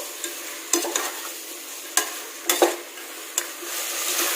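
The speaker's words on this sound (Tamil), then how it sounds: "இந்த காயெல்லாம் நல்லா வதங்கட்டும்" Vegetables including green peas sauté in a pan for white brinji vegetable rice, a continuous sizzle broken by several sharp scrapes and clinks of a spatula stirring, with no voices.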